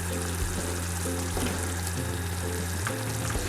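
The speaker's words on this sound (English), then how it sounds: "take your meat and begin to add your meat into the stew" Meat goes into a bubbling Nigerian stew, setting off a dense, steady close sizzle broken by soft plops and stirring sounds, with no talking.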